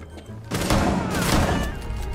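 A burst of rapid gunfire in the video game Rainbow Six erupts after a brief quiet moment, dense and loud, continuing for about a second and a half.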